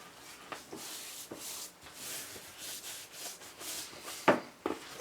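Hands rubbing salt, pepper and house seasoning into baby back ribs, soft repeated rubbing and sliding strokes with a few wetter pats near the end, close and quiet, with no voices.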